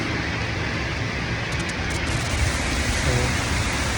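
Heavy rain pours down in a steady, dense hiss, close and continuous for a few seconds with no voices.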